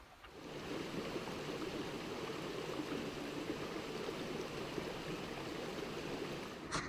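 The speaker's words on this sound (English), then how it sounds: "you can hear water down below us" Steady broadband rush of a stream flowing below, continuous and fairly soft, with no voices over it.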